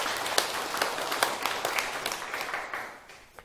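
A lecture audience at a Buddhist teaching session claps: a light, fairly distant patter of hands with a few sharper claps standing out, tapering off toward the end.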